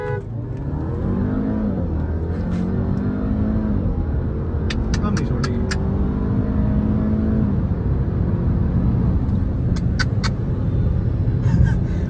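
A BMW 630d GT and a Skoda Octavia 1.8 TSI run a roll race. Engines strain loudly through rising, repeated acceleration sweeps with gear changes, heard from inside a car with voices now and then.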